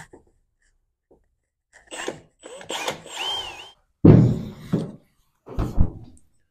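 A power drill, taken off hammer mode, punches a hole through a car firewall in several short bursts of whirring and grinding, close and fairly loud, separated by brief pauses.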